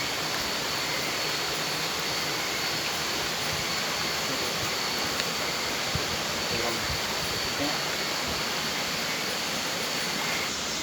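A strong river current rushes past in a loud, unbroken roar of churning water, filling the whole clip without a pause; the river is one where crabs are hunted.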